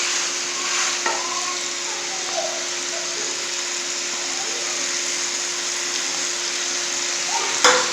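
Green chilies sizzle steadily in a hot pan as they are stirred, a constant bright frying hiss with a few light scrapes and clinks, close and clear with no talk.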